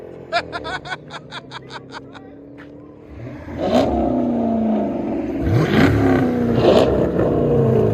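A 2005 Chrysler 300C with a 5.7L HEMI V8 and Flowmaster Outlaw dual exhaust revs loudly close by, with rising engine roars over the second half. Laughter and chuckling come first, and voices are heard around it.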